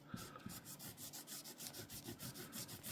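Excess paint wash is rubbed off a toy X-Wing model in quick, even back-and-forth strokes. The scrubbing is faint, close and rhythmic.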